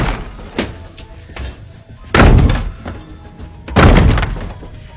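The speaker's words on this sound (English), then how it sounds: "Then kicking it with force." A stuck storeroom door is kicked hard, producing two loud, close, booming thuds about two seconds apart, each with a brief rattling decay, over a quieter background.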